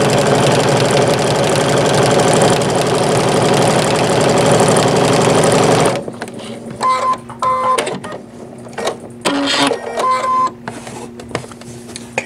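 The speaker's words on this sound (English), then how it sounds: "now I'm going to sew one for you, just so you can see" A sewing machine stitches with USA-made thread, running fast, loud and continuous for about six seconds before switching to quieter intermittent whirring bursts and clicks.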